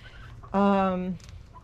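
One short, nasal call from a hen rises out of quiet background noise, a single clear cluck-like squawk.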